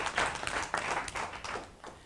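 Audience applause in a workshop hall, a steady wash of many hands clapping at moderate distance, fairly faint, continuous for about two seconds with no talk.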